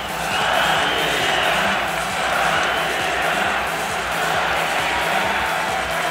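A boxing arena crowd roars and cheers steadily after a fighter from Volgograd wins, a broad, dense wash of noise swelling and easing, with commentators talking over it.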